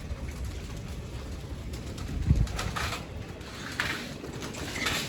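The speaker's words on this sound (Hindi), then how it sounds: "ये देख माशाल्लाह कबूतर दाना खाना शुरू कर दिया कबूतरों ने" Low, soft cooing of pigeons rises and falls against a constant outdoor hum, with a few brief louder bursts.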